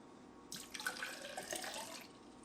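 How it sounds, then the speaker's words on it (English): Water pours from a container into an OYeet personal blender jar, a soft splashing stream that starts after a brief quiet moment, runs for about a second and a half, then stops, faint and close. "So I'm adding my water here."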